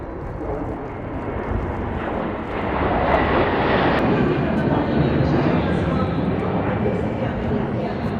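Indian Air Force formation of C-17s, MiG-29s and Sukhoi jets in a Republic Day parade flypast, a loud continuous jet roar that swells near the middle and holds steady, with an announcer talking over it.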